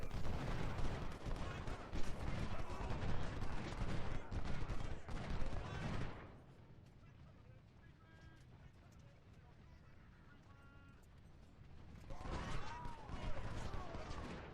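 Civil War musket volleys and artillery fire at First Bull Run in the Ultimate General: Civil War game. Dense, rolling gunfire opens the clip, fades to a quieter lull, then returns loudly near the end.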